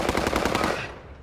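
A rapid burst of automatic gunfire in Call of Duty Vanguard, a close, loud string of evenly spaced shots that cuts off and fades within about a second, with no voices.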